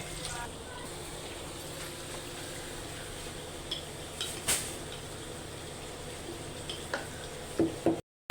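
Onions fry in a pan with shahi jeera, giving a steady soft sizzle throughout, broken by a few light clinks and scrapes of a utensil near the end.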